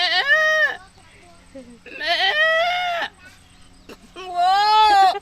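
A person imitates a goat bleating, giving three drawn-out wavering bleats with short pauses between them, loud and close.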